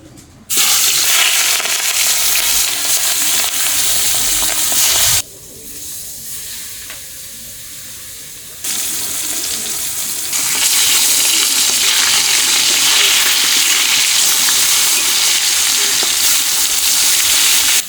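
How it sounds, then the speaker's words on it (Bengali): Hilsa fish frying in a pan, with a loud continuous sizzle and hiss that drops off briefly in the middle and then returns at full strength, close, with no speech. "এখন মাছগুলো ভেজে নেব।"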